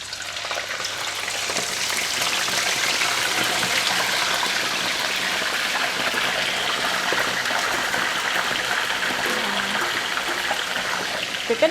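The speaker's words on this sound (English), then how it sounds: "When you put a lot of oil in the pan, please be careful when you drop in the fish because the oil might splash" Fish deep-frying in plenty of hot oil in a pan with fresh turmeric, a loud, steady crackling sizzle that swells after the first seconds and holds evenly throughout, with no voices.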